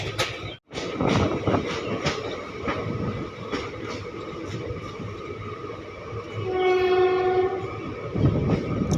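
Train 13417 from Asansol to Malda pulls into New Farakka Junction station, its carriages rumbling and clattering loudly and close, with a train horn sounding near the end.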